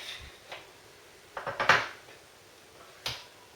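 A knife is run around the edge of a chocolate cake in its baking tin, making faint, sparse scrapes and light metallic taps, a few isolated touches and a small cluster in the middle, with no talking.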